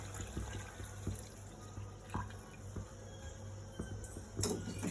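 Water runs and splashes steadily into a metal pressure cooker holding washed rice, nearby, with a faint background hum and a few clinks.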